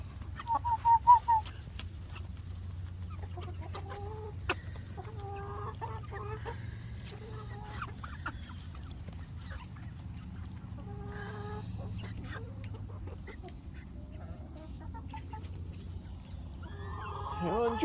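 Backyard chickens cluck softly and intermittently at close range in a quiet setting, with a few louder calls near the start and a low steady hum underneath; a person talks to them now and then.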